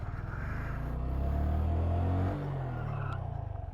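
A Honda Grom motorcycle's rear tire scrubs in a brake drift, heard as a loud, close engine drone and tire noise that swells then eases, with no talk.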